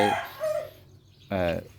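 A young rooster, one of four cockerels on a Thai poultry farm, crows twice, close and loud, a short call followed by a stronger crow after a brief pause.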